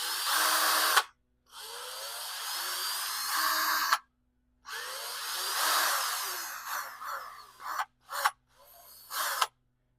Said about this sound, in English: I'm going to spin it now with the drill